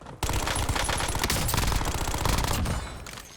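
Rapid automatic gunfire from a Warzone firefight rattles loud and close in dense, overlapping bursts, then tapers off toward the end.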